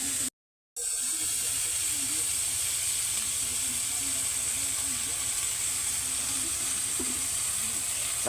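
Ground pork sizzles in a hot pan while ginisang ampalaya is sautéed, giving a steady, close hiss that runs the whole time after a brief moment of silence near the start.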